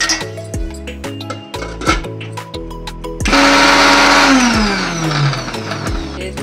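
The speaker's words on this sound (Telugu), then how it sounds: "ఇప్పుడు మిక్సీ పట్టుకుందాం." A mixer grinder blends veldt grape chutney with tomato and tamarind, first in short stuttering pulses, then in a loud continuous whirring run whose pitch sags as the jar's load thickens.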